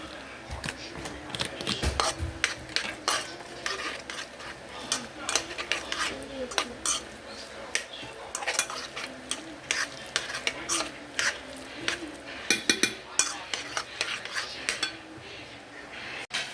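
Onions and chili fry in a pan while a spatula stirs them, sharp repeated scrapes and clinks against the metal over a continuous sizzle, close and fairly loud, with no talking.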